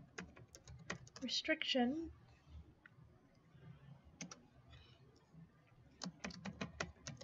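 Computer keyboard keys clicked in short bursts while typing a command during Windows 10 firewall configuration, light and close, with someone speaking over part of it.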